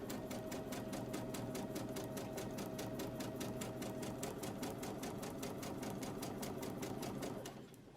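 A sewing machine stitches a quarter-inch seam on a fabric face mask, a close, steady, fast needle clatter running evenly for several seconds before winding down at the end.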